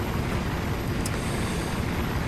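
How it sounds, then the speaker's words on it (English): A helicopter arriving in the Xbox 360 game Operation Flashpoint: Dragon Rising, a steady, close, heavy rotor-and-engine drone with a low rumbling beat that holds constant for a couple of seconds, with no voices. "eventually the helicopter came"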